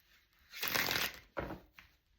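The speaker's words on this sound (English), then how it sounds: "And these are so easy to shuffle." A deck of tarot cards is riffled and shuffled up close in two quick bursts, crisp and papery, with no talking.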